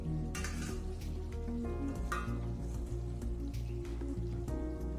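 Chicken frying in a pan hisses and crackles after a splash of water, a steady close sizzle with small popping drips throughout, no speech.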